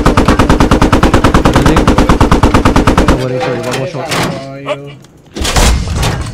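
Squad armour combat with an M1A1, T-72B3 or LAV-25: a loud, rapid, steady burst of automatic cannon or machine-gun fire lasting about three seconds, then scattered thuds and a final blast as voices talk.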